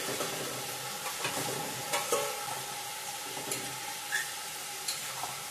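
Paneer cubes sizzle and crackle in a hot pan, a steady frying hiss with several soft stirring knocks and scrapes spaced through it, fairly quiet and without talk.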